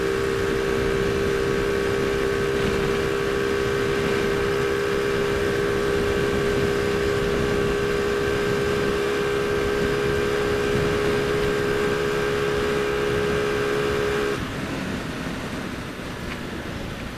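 A motorcycle engine held at full throttle, a steady loud droning whine with constant tones that drop slightly near the end, nearby and without speech.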